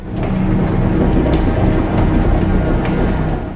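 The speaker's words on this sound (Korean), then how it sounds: "그리고 그날 오후 한스가 있는 그곳에 기차가 달려옵니다" A train rolls into a concentration camp in a wartime film set at Auschwitz, a steady loud rumble of wheels and carriages filling the whole stretch without pause.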